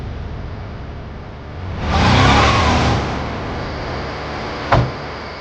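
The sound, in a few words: car engine revving while pulling over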